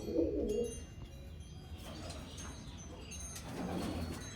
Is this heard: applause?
no